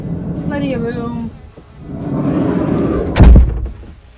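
A sliding door, being fitted with new panels, rolls and closes with a single loud thud near the end, preceded by muffled movement and room noise.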